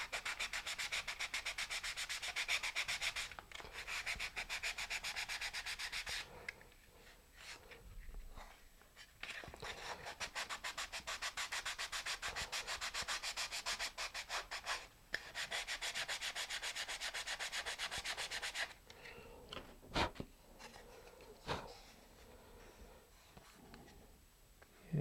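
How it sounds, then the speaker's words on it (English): Sandpaper rubs back and forth across the beveled wing edge joints of a Cirrus Breeze rocket glider on a sanding tee, long close strokes with a few brief pauses and small knocks. "I'll just sand across those joints."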